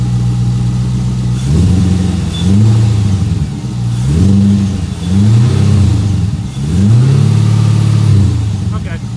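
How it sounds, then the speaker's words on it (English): A Chevrolet C8 Corvette engine revs up repeatedly, about five rising and falling blips over a steady idle, loud and close. "Rev it up and see if it makes any difference."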